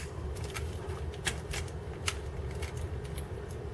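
Plastic wing panels on a Transformers Cybertron Vector Prime toy folding up and down, giving a string of light clicks and crackly snaps over a steady low hum.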